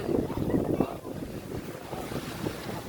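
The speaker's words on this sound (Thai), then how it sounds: "มีลมทะเลเนาะ" Sea wind and surf at Jomtien beach in Thailand, a steady broadband rush that is louder in the first second and then settles into a continuous blustery wash, with no talk over it.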